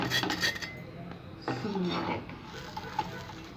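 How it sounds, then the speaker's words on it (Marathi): Crispy toasted sandwich bread is shifted around a hot pan, giving rattling, scraping clatter and light knocks at close range during a short burst. "एकदम कसं वाजतंय एकदम ब्रेड एकदम कडक कडक मस्त झाले."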